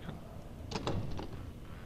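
A barred wooden door in Amnesia: The Dark Descent rattles in a short cluster of knocks and clatters, close and moderately loud, over a low ambient rumble.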